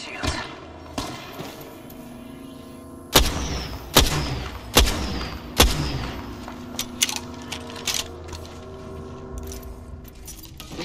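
Bursts of gunfire in a battle royale video game: several sharp, loud shots around the middle, then scattered quicker pops over a steady background rumble.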